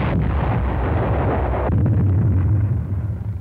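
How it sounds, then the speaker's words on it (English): U.S. artillery shelling Tinian island during World War II, heard as a loud, continuous rumbling barrage of explosions that holds steady and tails off slightly at the end, with no speech. "On the southern tip of the island, U.S. artillery pounded Tinian,"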